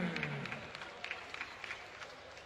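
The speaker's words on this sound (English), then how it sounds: "Ladies and gentlemen, once again, your applause is for Matum Chichandra Singh." Audience applause at a fight event honoring a fighter, a dense steady patter of clapping from a crowd, moderately distant and even throughout, with a low voice briefly underneath at the start.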